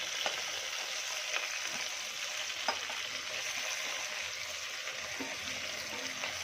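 Mixed vegetables for pav bhaji sizzle in oil inside a pressure cooker, a steady close hiss with occasional small crackles and clicks, no voices.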